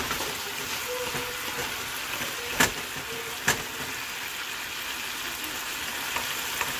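Hot chili peppers sizzle in a pan for spicy salsa, a continuous close frying hiss broken by two sharp pops or spatters.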